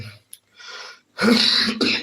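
A person gives a short throat-clearing cough, a couple of rough close-up bursts after a few faint breathy sounds.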